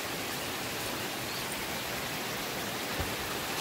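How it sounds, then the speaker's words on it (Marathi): Heavy unseasonal May rain pours steadily over a home courtyard, a soft, even, continuous hiss heard from some distance with no talking. "भरपूर जोरात पाऊस चालू आहे"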